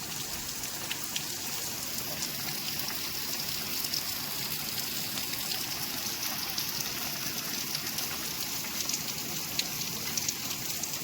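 Steady rain falls throughout, a continuous patter with a soft hiss and no voices, even and unbroken from start to finish.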